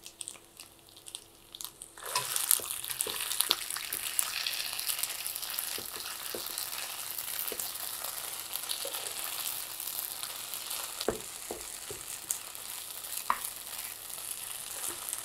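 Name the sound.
onions and garlic frying in a pan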